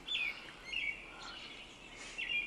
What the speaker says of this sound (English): These birds are loud as hell.